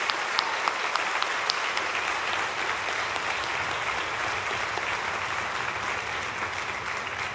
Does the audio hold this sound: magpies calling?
no